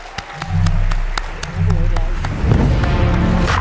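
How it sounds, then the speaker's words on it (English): An audience claps for the winner at the DesignEuropa Awards ceremony in Copenhagen, with a voice and other sounds mixed in across the short stretch. "A big hand of applause to Hangi"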